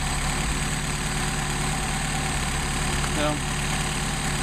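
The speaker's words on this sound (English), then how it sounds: "You just got really nice running carburetors. You just got a crappy idle." A car engine fitted with Solex carburetors idles steadily with a constant low hum, and a voice speaks briefly over it.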